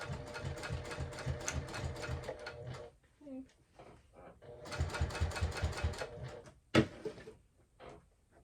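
Home sewing machine top stitching a fabric wristlet clutch wallet, running in short bursts of rapid rhythmic stitching separated by a pause with handling noises and a sharp knock, close and moderately loud.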